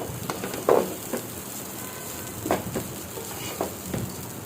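Rice for biryani is stirred as it fries in a pot, giving a soft continuous sizzle with a few sharper scrapes and clatters of the spoon spaced through it, and no talking.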